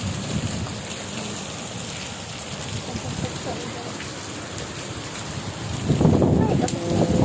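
Heavy rain pours steadily and loudly throughout, a dense hiss drumming on surfaces, with a low rumble and a louder surge near the end.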